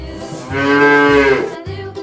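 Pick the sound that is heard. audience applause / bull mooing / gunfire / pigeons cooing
bull mooing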